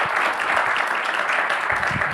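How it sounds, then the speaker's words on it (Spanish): Warm audience applause welcoming Nicolás Kasanzew at a talk on the Malvinas in Libertador San Martín, Entre Ríos: a steady, dense wash of clapping that holds evenly for the whole stretch. "les pido un fuerte aplauso para dar una calurosa bienvenida al señor Nicolás"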